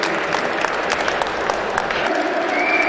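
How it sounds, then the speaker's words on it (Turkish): Audience applause at an Erzurum cultural days finale event in Antalya, a steady sustained clapping from a crowd that holds an even level throughout. "Bir alkış gelsin."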